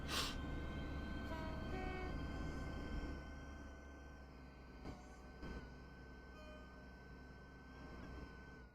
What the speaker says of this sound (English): I'm just watching the train go by.